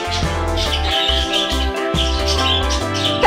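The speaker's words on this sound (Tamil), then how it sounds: "இந்த வகையான பறவையோட பேர் வந்து ராஜா." A pet bird, a kept parrot-type songbird, chirps in quick repeated tweets over a steady harmonic background drone, the calls fairly close and continuous across a few seconds.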